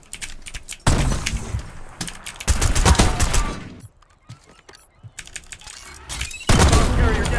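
Gunfire in a Search and Destroy shooter video game, sharp bursts of rapid shots in several loud clusters separated by quieter gaps, close and punchy.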